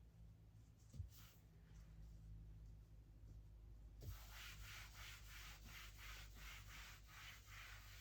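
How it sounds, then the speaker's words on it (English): A table surface is wiped down to clean it, giving a faint, rhythmic rubbing swish with repeated strokes that grow louder and more regular in the second half, over a low steady hum. "I'm going to go ahead and clean my table for 30 seconds"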